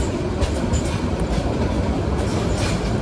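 A Jamalpur Express train running on rails from Dhaka past Tongi Junction, heard from on board as a loud, steady rumble with continuous wheel-on-track roar and faint intermittent squeals.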